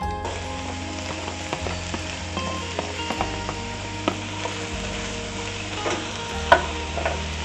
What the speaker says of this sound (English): now that this is hot, I'm going to put in my celery, onion, and green pepper